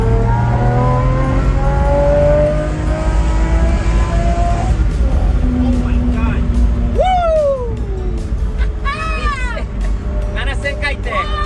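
A Toyota AE86 engine drones and revs higher on a highway, pitch rising as it accelerates, with road noise throughout and a few short voiced sounds over it.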